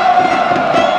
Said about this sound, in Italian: Probabilmente non hanno mai smesso di suonare e di cantare.